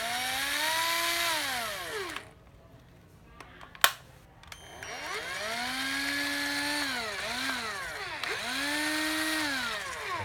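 A used cordless drill revs up and down repeatedly with whining pitch sweeps. It pauses briefly midway with a few clicks and a knock, then resumes cycling its speed, loud and close.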